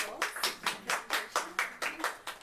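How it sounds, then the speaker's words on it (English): Clapping for a speaker after a museum exhibitions talk: a sparse, evenly spaced series of about a dozen distinct handclaps at a quiet, slightly distant level, suggesting only one or a few people clapping. "I'd like to give Amy a round of applause"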